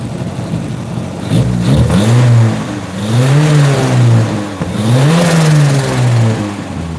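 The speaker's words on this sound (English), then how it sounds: "it took me a while to make this engine run perfect like the way it is right now, but it is running so good" A car engine revs up three times in a row, each rise and fall of pitch loud and close, with a steady idle rumble between the surges.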